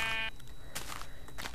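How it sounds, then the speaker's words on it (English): Sheep bleating in Minecraft gameplay, with two or three short bleats heard close and alone, set against a faint steady tone. "And that is a lot of sheep."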